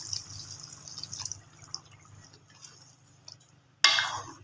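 Water is poured into a pot of chicken kofta curry, a short, loud splash near the end after quieter clinks and drips.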